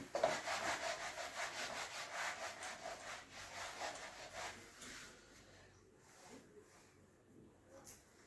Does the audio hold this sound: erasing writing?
yes